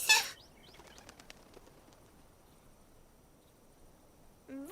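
Cartoon birds return in a burst of flapping wings and a rising chirp, followed by a few faint scattered tweets over near silence, then another bright ascending chirp at the end.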